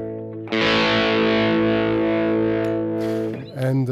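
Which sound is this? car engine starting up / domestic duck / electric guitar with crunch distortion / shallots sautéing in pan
electric guitar with crunch distortion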